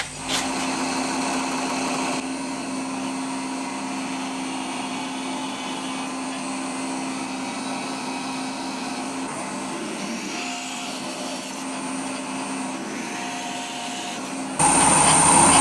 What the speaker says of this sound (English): we'll go ahead and pilot drill those holes now